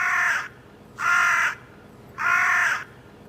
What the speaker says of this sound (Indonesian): Gimana kalau burung gagak?